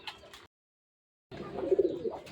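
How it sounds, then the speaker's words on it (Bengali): A pair of red checker racing pigeons gives soft, low cooing after a short silence, close by with faint background noise. "এক পেয়ার রেড চেকার কবুতর"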